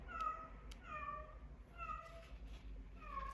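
A lone house cat meows repeatedly from downstairs, four separate drawn-out cries spaced about a second apart over a steady low hum, fairly faint and somewhat distant.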